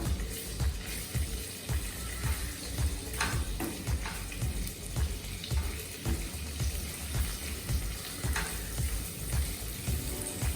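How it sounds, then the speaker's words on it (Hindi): Whole spices, black cardamom, cloves and a piece of cinnamon, sizzle and fry in a pan of oil for a vegetable pulao, with steady crackling and repeated scraping stirs close by and no talking. "ये सब डाल दीजिए, खड़ा मसाला पूरा. उसको स्टर करिए थोड़ा."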